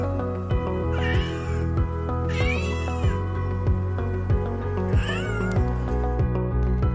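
A desert wild cat meows repeatedly, three loud, clear drawn-out calls with pauses between, heard alone and close.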